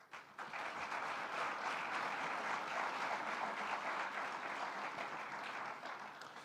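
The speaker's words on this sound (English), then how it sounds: "Round of applause for her, please" An audience claps steadily through a round of applause at the Namibia-EU Business Forum, a dense, even wash of many hands that holds at full strength from start to finish.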